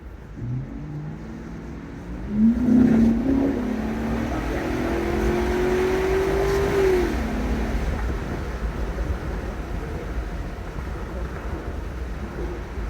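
A Lincoln Aviator 4.6 four-valve V8 with a cold air intake revs up, its pitch climbing steadily and then holding before dropping back, with a low rumble continuing afterward; no one speaks.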